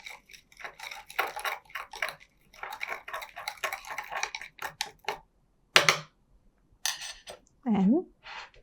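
A soil sample is stirred and mixed in a container, producing rapid, uneven scraping and clinking strokes with brief pauses, close and fairly loud, ending with a short squeaky scrape.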